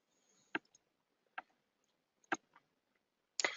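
A computer mouse gives four sharp, separate clicks spaced about a second apart in a quiet room, the last followed by a brief rustle.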